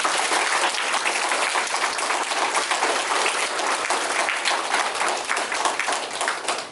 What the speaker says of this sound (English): Can we give our honor guard a round of applause?